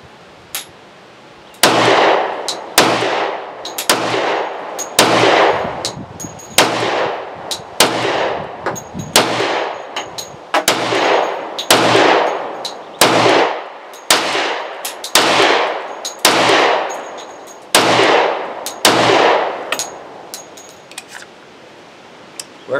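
Sig P320 X Ten 10mm pistol firing outdoors, about fifteen loud sharp shots in a steady, evenly spaced string, each cracking close with a ringing tail and no talk.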